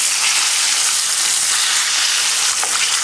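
Smelts fry in extremely hot oil with a loud, dense, continuous hiss and crackle, steady from start to finish and close to the pan, with no voices.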